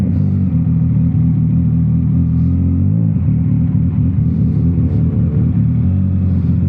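A Kawasaki ZX-10R supersport motorcycle engine runs loud and steady, a dense low rumble that holds throughout with slight surges, heard close with no talk.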